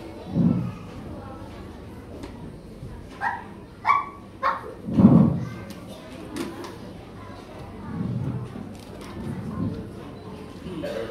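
A small dog barks and yips in short bursts, a few sharp high calls mixed with lower woofs, over a quiet background with faint voices.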